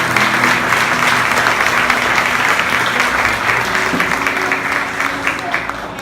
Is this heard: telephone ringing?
no